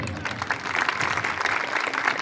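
Applause at a religious pilgrimage gathering, a dense, fairly distant wash of many hands clapping that holds steady throughout at modest volume.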